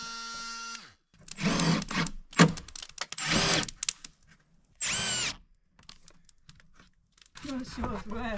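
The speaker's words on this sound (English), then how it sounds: "I was smart enough to bring my Milwaukee oscillating multi-tool, and that will finish the job for me." Milwaukee oscillating multi-tool cutting while prepping an off-grid cabin roof for metal roofing, heard as several short loud buzzing bursts separated by pauses, with voices and handling noise in between.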